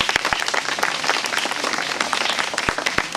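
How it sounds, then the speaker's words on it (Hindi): Audience applause in a forestry-range gathering in South Chhindwara, a dense steady patter of many hands clapping together for about three seconds, fairly loud and close, with a few sharper individual claps standing out near the end. "तालियां।"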